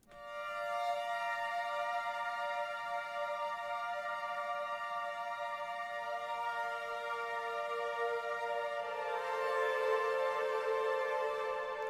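A sustained, bright synthesizer pad with stacked harmonic layers, holding steady chords before shifting upward near the end, with no voices.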